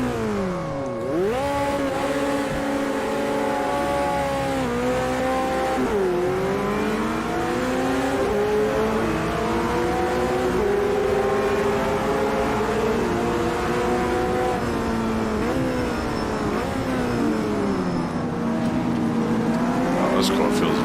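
Automobilista 2 GT3 race car on track, engine revving hard with sharp pitch drops at gear changes and braking, then climbing again, loud and constant throughout.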